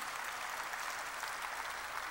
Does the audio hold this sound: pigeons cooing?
no